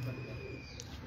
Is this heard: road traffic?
no